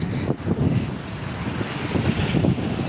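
Wind buffeting the microphone in steady gusts by the waterfront in Martigues, France, a loud rushing roar with low rumbling, no speech.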